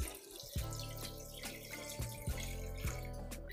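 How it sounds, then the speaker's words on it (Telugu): Water pours into a cooking pot on a stove for a mutton and drumstick curry, a close steady splashing stream with a few clanks of metal. "దీనిలో కొంచెం నీళ్లు వేసుకోవాలి."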